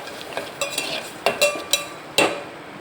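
Masala with tomato and onion puree and ginger paste cooks in a pan. A utensil scrapes and clinks against the pan in several irregular strokes over a soft sizzle, and no one speaks.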